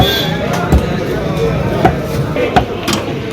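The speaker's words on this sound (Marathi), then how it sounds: "तिकडे टोल मासा कटिंग होतोय" At a busy fish market, fish are cut with sharp chopping thwacks, a few distinct strikes landing over a constant loud bustle of crowd noise and background voices.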